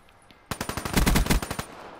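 Rapid burst of automatic gunfire in Black Ops 3, a dozen or so sharp, loud shots in quick succession after a brief quiet start, the rhythm tightening into a dense cluster midway before trailing off.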